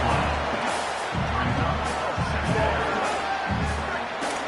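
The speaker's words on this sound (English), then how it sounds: "And wow, listen to this crowd noise. This stadium is vibrating." A loud football stadium crowd roars continuously after a quarterback is sacked near the goal line, a dense, sustained wash of cheering and noise with a low rhythmic thumping underneath.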